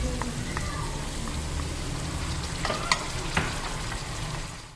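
Chicken frying with ginger and garlic in a pot for an aloo chicken curry, a soft steady sizzle with a couple of sharp stirring knocks.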